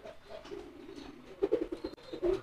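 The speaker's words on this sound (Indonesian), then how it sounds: "Ini ya merpati telo ya, banyak yang nanya merpati telo, ah." Pigeons with a wry-neck condition coo in low, throaty bursts, a soft murmur building to a few louder close coos toward the end.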